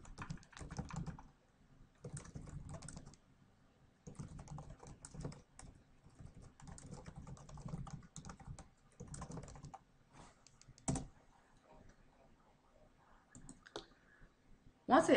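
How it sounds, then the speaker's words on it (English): Someone types on a computer keyboard in several bursts of close, crisp key clicks separated by short pauses, with a louder tap near the end. "I'm going to type exactly what it states."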